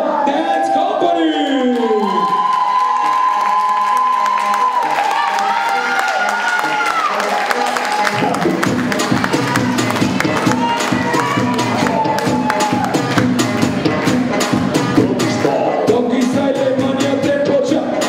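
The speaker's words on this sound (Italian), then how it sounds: "fuerte l'applauso para Balla col Sorriso Dance Company!" A festival audience at a bachata dance show in Genoa claps and cheers loudly and continuously, with whoops and shouts over dense applause, after an announcer's voice at the start.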